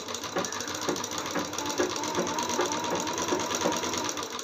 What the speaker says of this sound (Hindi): तो चलिए मशीन पे सिलाई लगा कर दिखाते हैं